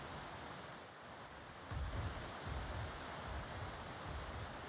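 Steady wash of falling water from a waterfall in ARK, the video game, a broad continuous rushing roar with low surges swelling partway through, no voices present.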